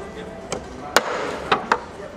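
A tapered wooden plug being tapped into a counterbored screw hole in timber decking, giving four sharp, separate knocks spaced irregularly over two seconds, close and fairly loud above low background noise.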